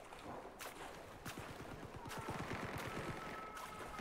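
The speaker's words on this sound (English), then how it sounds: "There's some gunfire over here." Rapid bursts of distant gunfire crackle in quick succession in Far Cry 5, a sustained volley over a constant rumbling background.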